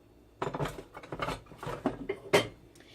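A hot metal pan is turned upside down over tri tip in a home kitchen, giving a run of clattering metallic knocks and scrapes, close and fairly loud, with a sharper clank near the end.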